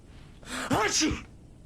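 A single sharp character sneeze in the video game Alan Wake Remastered, close and loud, with a quick inhaled gasp before the burst.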